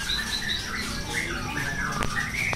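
A captive bird at a breeding farm gives repeated shrill squawks and warbling calls over a steady background hum, fairly close and continuous.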